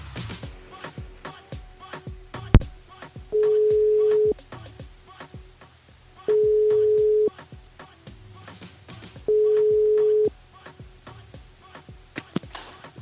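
Telephone ringback tone on a radio station switchboard while calling back a listener, three long steady beeps at regular intervals over quiet background music with soft rhythmic beats.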